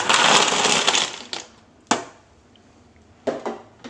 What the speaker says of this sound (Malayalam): നമുക്കിത് കൂടുതൽ തണുപ്പ് കിട്ടുന്നതിനായിട്ട് കുറച്ച് ഐസ് കൂടി ഇതിലേക്ക് ആഡ് ചെയ്ത് കൊടുക്കാം